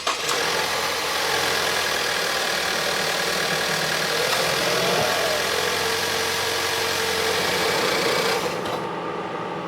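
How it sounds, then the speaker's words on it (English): A Ford Edge 2.0L engine runs at a steady idle after its spark plugs have been replaced, a continuous even hum with a faint high whine, heard close and without any voices. "let's go ahead and start it and make sure our hard work is paid off"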